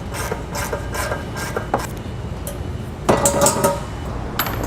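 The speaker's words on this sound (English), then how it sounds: "Now we'll take our 16mm" Ratchet wrench with a 16mm socket removing nuts from a base plate mount on a 2016 Mini Countryman, heard as a series of quick, fairly close clicking bursts with a louder rattling stretch near the end.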